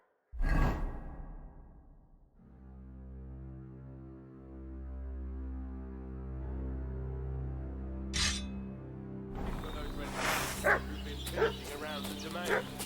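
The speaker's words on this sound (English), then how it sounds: "What's that dog making such a fuss about?" In the medieval video game Kingdom Come: Deliverance II, a dog yips and whimpers amid a low droning game score, with a whoosh and a few sharp sounds near the end.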